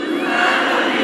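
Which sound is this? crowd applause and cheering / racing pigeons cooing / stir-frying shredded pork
crowd applause and cheering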